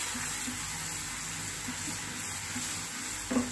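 Crushed garlic sizzles in hot oil for a grated mango pickle, a steady soft frying hiss lasting the whole stretch with a faint stir or clink at the very end, no speech.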